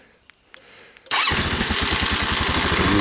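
A 2007 JCL MP 250 motorcycle, kept in a cold shed, starts after a few faint clicks. Its engine catches at once and settles into a loud, steady, close idle with an even, pulsing beat.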